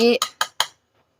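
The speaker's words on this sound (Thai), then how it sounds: "โขกตะไคร้ก่อนนะคะ" Lemongrass is pounded in a mortar for a northern Thai fresh bamboo shoot curry chili paste: after a brief voice, three quick, evenly spaced close thuds, then silence.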